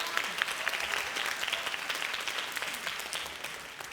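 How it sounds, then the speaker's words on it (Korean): A church youth group audience claps in thanks, a lively spread of many hands with some sharp individual claps standing out near the front, fairly steady throughout. "감사의 박수 부탁합니다."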